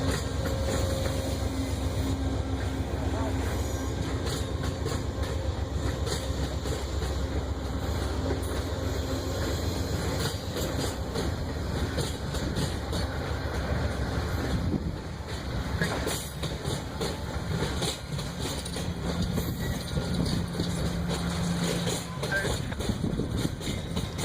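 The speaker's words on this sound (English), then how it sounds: "As Amtrak 19 passes" Amtrak 19, a passenger train bound for New Orleans, rolls past a trackside spot in Birmingham with a continuous rumble and rapid rhythmic wheel clatter over the rails that stays close and loud for more than twenty seconds.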